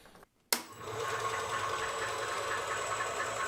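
A CNC 7x12 mini lathe spindle spins in its low-speed gear setting; after a brief silence the motor starts and settles into a loud, steady gear whine with rough mechanical chatter, no voices.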